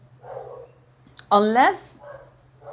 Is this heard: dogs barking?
yes